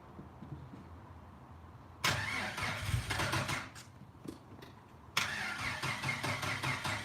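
A rebuilt 4.0 engine cranks on its first start attempt. Two loud bursts of starter cranking with rough, stuttering engine noise follow a quiet lead-in, each close by and harsh.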